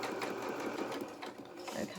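A sewing machine stitches pivot turns on a small doll's waistcoat, running in a steady, fast, close mechanical whir with slight pauses, under a quiet talking voice.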